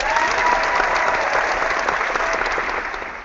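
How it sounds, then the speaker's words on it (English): A studio crowd gives sustained, dense applause for a sneaker show's eighth anniversary on air, loud and even throughout and easing off slightly at the end. "Let's give a round of applause for that."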